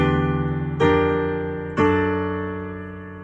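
Sustained piano chords from the Brother John part of a song ring out, with two fresh strikes about a second apart, each decaying slowly into a rich, resonant wash.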